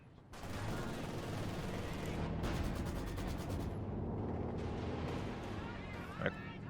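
An MG42 machine gun in the video game Company of Heroes 2 fires a sustained, dense burst over loud battlefield noise. The rattling barrage continues unbroken, with a sharper crack near the end.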